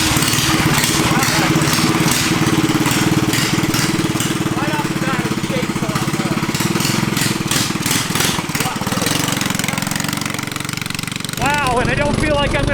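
A cheap Temu-powered go-kart engine chugs at a rough, rapid putter, loud and close, running for the whole stretch while people talk over it.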